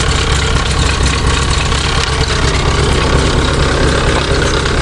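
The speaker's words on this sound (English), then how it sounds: "I don't know which is louder, the fuel pump or the exhaust." Chevy 427 dump truck engine idles loud and steady with a rumbling exhaust and a whirring fuel pump, continuous and close with no talk.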